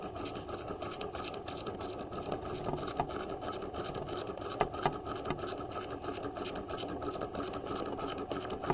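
A sewing machine stitches the shoulder seam of a quarter-zip jacket, running continuously at a steady pace with a close, even mechanical hum and faint ticking throughout.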